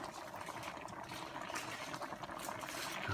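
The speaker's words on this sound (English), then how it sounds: "let's simmer for the next 2 minutes" Catfish caldereta simmering in a pot, with a continuous soft bubbling and fizzing that grows slightly louder toward the end.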